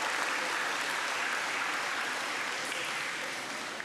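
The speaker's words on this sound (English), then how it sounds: "Let's give a round of applause to our Ironman and Super Spartan winners." A school audience claps steadily at an athletic awards assembly for the winners, a broad wash of many hands at moderate distance that fades slightly near the end.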